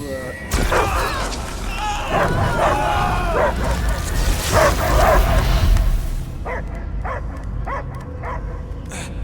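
A dog barks and yips repeatedly amid a dense, booming soundscape in the video game Marvel's Guardians of the Galaxy, followed by a short run of sharper barks near the end.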